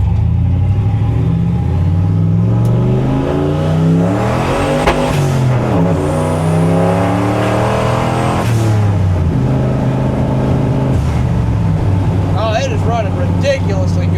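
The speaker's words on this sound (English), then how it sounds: "when I tip into it, there's a little bit of lag, and then the boost comes on" A 1976 Ford F250 pickup with a turbocharged 331 engine accelerates under boost. The engine note is loud and close, climbing and dipping steadily over the run, with a faint high whine riding above it.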